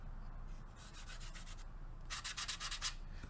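Rough airbrushed paint on a 1/48 ICM He.111 H-3 model kit being rubbed, a soft scratchy sanding friction held close to the microphone, with repeated strokes that grow louder and more rapid in the second half.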